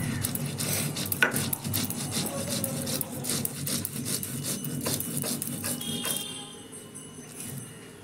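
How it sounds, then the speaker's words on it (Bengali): Soaked rice and green chilli being ground by hand on a flat grinding stone, a steady run of close, rough scraping and rubbing strokes that thin out and soften near the end. "সেই চাল আর লঙ্কাটা আমি বেটে নেব শিলে।"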